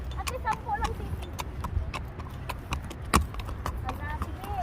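A horse walks with steady, fairly close hooves clip-clopping, while a voice talks over the hoofbeats throughout.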